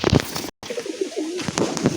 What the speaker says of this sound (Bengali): এই দেখো পায়রা।